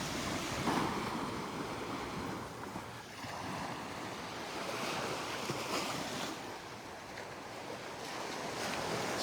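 Small, gentle ocean waves wash along a shallow shoreline at Delnor-Wiggins beach as the tide turns, a steady broadband surf wash with light wind noise, continuous and moderately close with no voices.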